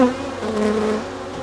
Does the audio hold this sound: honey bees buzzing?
yes